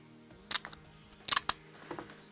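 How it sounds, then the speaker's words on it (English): Scissors snipping the label off a Citadel paint bottle: a few sharp, close clicks and crunching cuts in uneven bursts, with quiet pauses between the snips. "we're just going to cut the label off"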